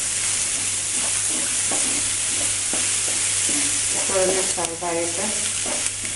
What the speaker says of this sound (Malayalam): ഇതൊന്ന് വഴറ്റുക. ചെറുതായിട്ടൊന്ന് വഴറ്റിയതിന് ശേഷം